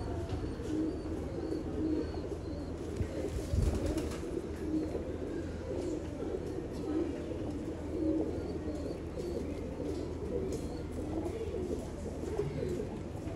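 Sialkoti pigeons coo on and off in soft, throaty calls over a steady low background hum, with one brief louder knock partway through.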